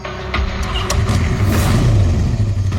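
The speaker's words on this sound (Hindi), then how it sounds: "ये कौन जा रहा बाइक पे?" A motorbike pulls away at night, its engine revving loudly and steadily nearby as it drives off, with some clatter over the rumble.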